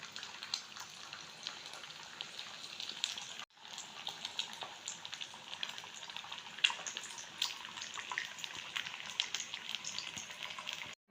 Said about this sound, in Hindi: ये हो रहे हैं अंडे फ्राई।